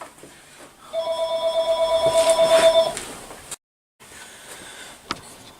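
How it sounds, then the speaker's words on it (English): Mobile phone ringing in a workshop, a repeated electronic ringtone pulsing for about two seconds nearby, then stopping, followed by quiet background and a faint clunk. "my phone's ringing"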